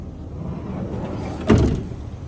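The rear sliding door of a 2003 Honda Odyssey closes with one solid thump after a low rolling rumble, close by and outdoors.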